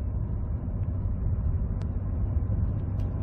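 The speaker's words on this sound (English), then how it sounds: "this is regular acceleration, light to moderate. And we're going through every gear on here." A Ford F-150 pickup with a 10R80 ten-speed automatic gives off a steady low engine rumble from inside the cab under light to moderate acceleration. The drone stays even throughout, with no distinct shift breaks standing out.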